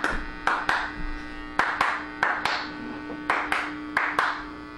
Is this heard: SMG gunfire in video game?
no